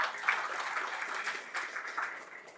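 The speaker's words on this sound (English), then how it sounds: "Can we please have a huge round of applause for Weber?" Applause from a business conclave audience at a chapter inauguration ceremony, a fairly soft, even round of clapping that carries on steadily without speech.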